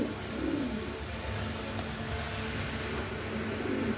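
Pigeons offered for sale coo softly in low, rolling phrases at the start and end, over a steady hum of background noise.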